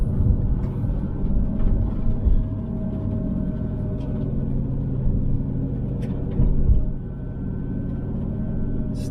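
A car drives along with a continuous low engine rumble and road noise from inside the cabin, the drone rising and easing slightly as gears change.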